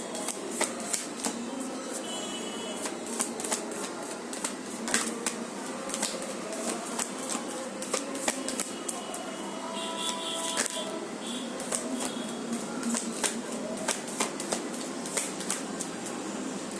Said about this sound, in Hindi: ये कार्ड्स थोड़े डिफिकल्ट है शफल करना